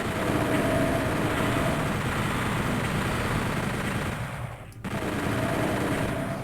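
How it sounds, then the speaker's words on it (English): Chain gun in Doom 64 firing a rapid, sustained burst at lost souls, loud and continuous with a brief dip near the end before the fire resumes. "I have my chain gun ready for a bunch of lost souls that will appear"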